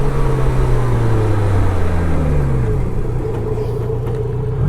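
A BMW K1200LT touring motorcycle slows hard during a brake test, its loud engine and road rumble dropping steadily in pitch as it decelerates, under constant wind roar.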